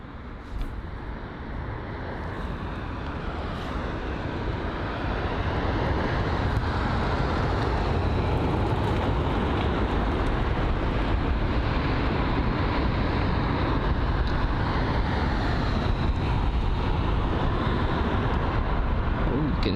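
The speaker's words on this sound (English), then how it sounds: "But the long-awaited British Airways A380 on departure now." British Airways Airbus A380 airliner taking off at London Heathrow: a loud continuous jet roar that builds after the first few seconds and then holds steady, with faint wind noise.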